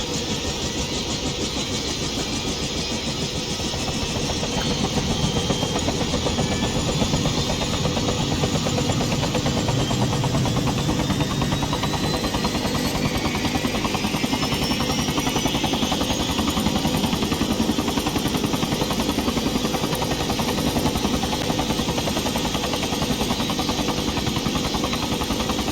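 A Bell 212 helicopter engine starts and keeps running, a dense, loud mechanical roar with steady whine that builds over the first few seconds and then holds evenly throughout.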